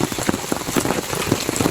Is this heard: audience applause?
no